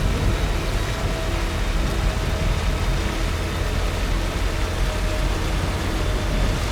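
Timefall rain pours steadily in the video game Death Stranding, a dense, even hiss of rainfall with a faint low rumble beneath, loud and unbroken throughout.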